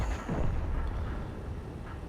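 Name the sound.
tank gun firing in a tank video game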